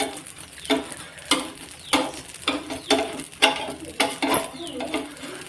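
Dosa batter cooking on a hot pan at home, with a run of sharp sizzling bursts and scraping stirs repeating roughly every half second, close and moderately loud, without talk.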